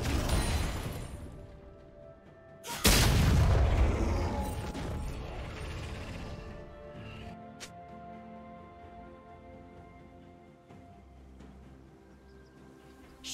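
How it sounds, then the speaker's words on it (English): A turret in League of Legends collapses with one loud crashing impact, followed by a long rumbling decay under a steady game soundtrack. "Red team's turret has been destroyed."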